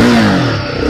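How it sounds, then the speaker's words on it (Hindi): A Royal Enfield Guerrilla 450 motorcycle engine on cold start gives a loud, close, steady mechanical drone with a faint dip in pitch throughout the one-second span. "अभी मैं स्टार्ट करूंगा इसका कोल्ड स्टार्ट"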